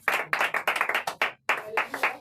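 A worship congregation claps hands in a quick, uneven rhythm of close, sharp claps, pausing briefly before resuming.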